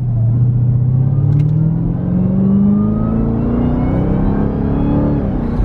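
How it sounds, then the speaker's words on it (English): A Dodge Durango Hellcat's supercharger whines at quarter throttle on a cold, wet night, a rising whistling tone over a loud, steady engine rumble that climbs smoothly for several seconds. "Listen to the whine from the supercharger."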